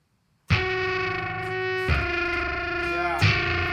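Electric guitar through a KHDK Unicorn Blood II fuzz pedal, three loud sustained distorted chords struck in turn, each ringing on thick and saturated with a buzzy harmonic edge, played alone.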